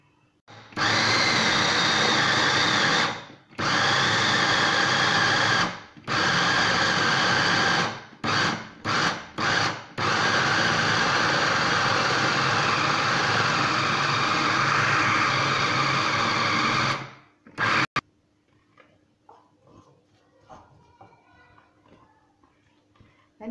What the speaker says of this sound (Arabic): غادي نطحن هاد السرديل هذا